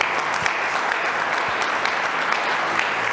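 A church congregation claps together in a steady, dense wash of applause that holds at an even level throughout, with no voices standing out.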